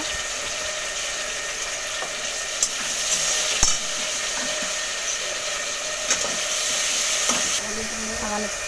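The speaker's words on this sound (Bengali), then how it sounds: "টমেটো কেটে দিয়ে দিলাম সামান্য হয়ে ঠিক করে নুন দিয়ে দিয়েছি দিয়ে একটু ভালো করে নাড়াচাড়া করে নেব" Tomatoes fry and sizzle in a pan with salt for a mustard-poppy seed fish curry, a steady close crackling hiss with occasional scrapes and taps of stirring, no talking.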